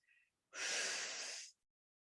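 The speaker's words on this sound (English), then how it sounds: "Exhale, blow it out through the mouth." A single deep breath blown out through the mouth during a yoga session, one long breathy whoosh of about a second, close and fairly loud, preceded by a brief faint inhale.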